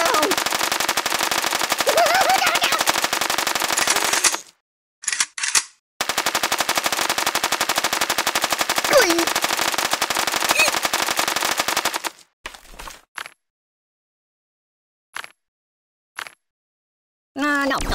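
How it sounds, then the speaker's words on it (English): Long bursts of rapid machine gun fire in the Kick the Buddy video game, loud and close, broken by short silences and brief stutters of shots. "Who is shooting me?"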